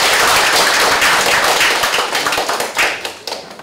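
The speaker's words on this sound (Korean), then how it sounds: "다시 한번 박수 좀 부탁드립니다" Close, dense clapping from an audience at a Korean clan association general meeting, a steady patter of many hands that thins and trails off toward the end.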